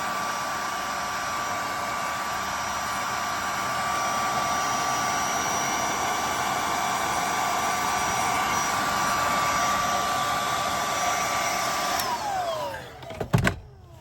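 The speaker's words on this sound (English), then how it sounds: "this is just a hair dryer" A hair dryer blows with a steady, loud whirring roar, used on a car door sill, running continuously, then winds down at the end with a few clunks as it switches off.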